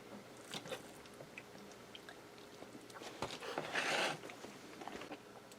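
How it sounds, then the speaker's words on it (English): Close, quiet biting and chewing of chicken cordon bleu meatloaf with ham and cheese, soft moist squishes and a few small crunchy bites scattered over a low background. "I'm going to cut this in half and try to get a money bite with the ham and the cheese"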